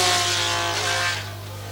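Formula 1 cars at the 1977 Dijon race, a Brabham Alfa and a Lotus Ford, roar past close by with a loud, steady high-pitched engine whine that dips slightly as they pass.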